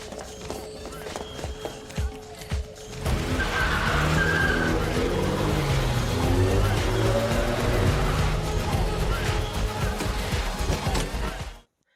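A car pulls away in a movie escape after a quieter stretch with a few knocks. Tires skid and squeal over a roaring engine that holds loud for about nine seconds, then cuts off abruptly.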